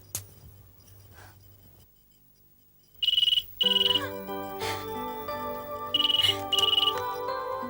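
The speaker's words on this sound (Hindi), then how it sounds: "फोन तो दुरुस्त है, फिर अकबर का फोन क्यों नहीं आया?" An electronic telephone ring sounds in two pairs of short trilling bursts, over faint background ambience and a low hum.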